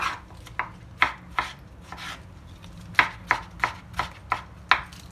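Knife chopping tomatoes on a cutting board for a salad, about a dozen crisp, close cutting taps in an uneven rhythm, with no talking.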